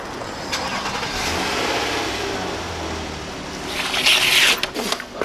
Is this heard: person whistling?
no